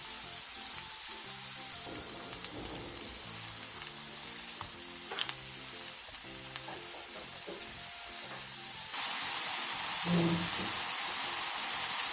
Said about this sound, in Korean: 그 다음 버섯을 올린 뒤 중불에서 앞뒤로 노릇노릇하게 구워주세요.